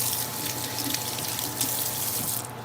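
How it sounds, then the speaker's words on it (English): A sink tap runs steadily while hands are washed under it, a close, even rush of water with small splashy variations lasting a few seconds. "Let me wash my hands, y'all."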